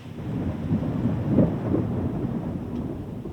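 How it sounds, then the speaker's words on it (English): Heavy rain pours down steadily as low thunder rumbles and swells in the middle, loud and close with no voices. "The rain's really coming down now."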